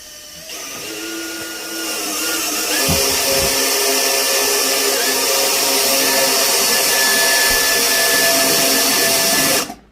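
Power drill boring holes to mount an under-cabinet range hood, a loud continuous whining motor run lasting several seconds before cutting off abruptly at the end.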